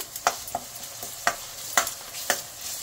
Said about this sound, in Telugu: ఆనియన్స్ బాగా వేగిన తర్వాత అల్లం వెల్లుల్లి పేస్ట్